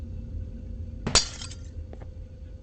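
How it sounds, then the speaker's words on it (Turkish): A sudden crash of breaking glass with bright tinkling shards, set against a steady low rumbling background, then a couple of faint clinks. "Umarım bu camı kırabilirsin."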